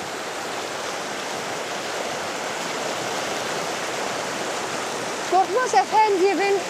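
Flowing stream water rushes in a steady, full broadband wash close by, with a brief burst of other sound near the end.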